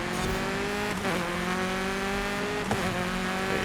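A Porsche race car in the video game Forza Horizon 5 holds a steady high engine drone at speed, with brief shifts or bumps near the one- and three-second marks, loud and continuous, no talking.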